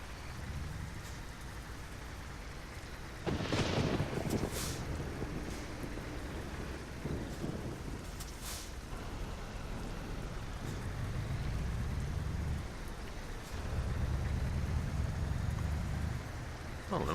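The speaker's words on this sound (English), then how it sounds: "And it's really raining." Steady rain pattering in the trucking game Euro Truck Simulator 2, a continuous wash of drops on the cab over low engine rumble, fairly loud and constant throughout with no talk.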